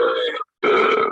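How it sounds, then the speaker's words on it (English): A loud, deep human belch drawn out in two long bursts separated by a short pause, close and prominent with no other sound around it. "here's the actual audio of that belch once again"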